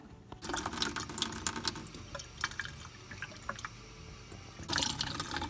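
Water pours steadily into an ultrasonic cool mist humidifier tank, with splashing and gurgling that swells at the start and end, close by.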